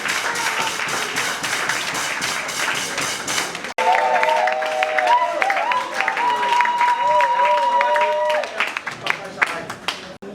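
Wedding guests clapping and cheering loudly in memory of a deceased elder, dense applause that briefly cuts out then resumes with a sustained voice singing or calling over it, fading near the end.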